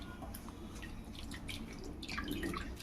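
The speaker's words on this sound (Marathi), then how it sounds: "2 ते 3 पाण्याने हे स्वच्छ धुवून घ्यायचे आहेत." Grated potatoes being rinsed clean in water for sabudana papad, giving a steady wet sloshing and trickling with scattered drips and splashes, close and moderately loud, no voices.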